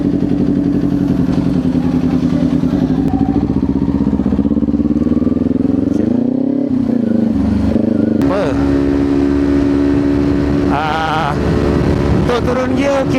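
Kawasaki Ninja 250 with an SC-Project exhaust on a test ride, engine droning loud and close throughout with pitch shifts as it accelerates and changes gear, some wind and clatter mixed in.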